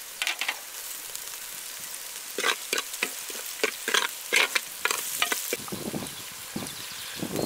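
Spices such as star anise, cardamom, fennel and turmeric, with ginger garlic paste, are stirred in a hot pan for Andhra-style gongura mutton curry. Close, irregular scraping strokes sound over a steady sizzle of frying.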